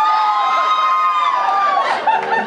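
A live concert crowd at Lincoln Hall cheers and shouts loudly, a dense wash of excited voices filling the short moment.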